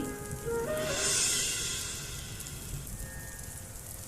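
Heavy rain in an animated cartoon, heard as a soft, steady hiss with faint sustained tones layered over it.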